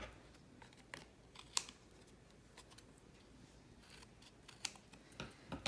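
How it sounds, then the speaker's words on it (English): Scissors snip away an excess piece of card while a rainbow greeting card is assembled, giving several brief, crisp cuts scattered through quiet paper handling. "And then I'm going to trim it off."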